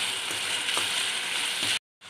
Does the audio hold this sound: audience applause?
no